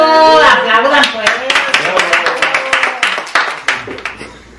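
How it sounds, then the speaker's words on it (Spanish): Family members clapping during a home celebration with gifts and dancing, a handful of sharp, uneven claps rising over loud excited voices and cheering that dominate the start. "¡Aplauda, pues!"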